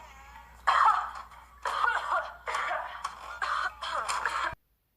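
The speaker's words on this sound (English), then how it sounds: "she's coughing so that no one can hear her take the drugs" A girl coughs in a drama series scene, a run of five or six harsh bursts of coughing in quick succession, fairly close and clear with no talk over it, ending abruptly.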